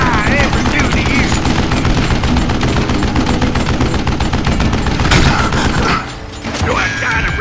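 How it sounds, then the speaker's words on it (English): Rapid gunfire from the Western shooter video game Call of Juarez Gunslinger, loud and dense bursts of shots with metallic clatter and music underneath, easing briefly near the end. "Do I gotta reload again?"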